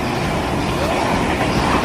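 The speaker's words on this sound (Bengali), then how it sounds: "ট্রেন যাচ্ছে" A train passing through a busy station at midday, a dense continuous rumble and roar of wheels and carriages that stays loud throughout, with faint crowd murmur underneath.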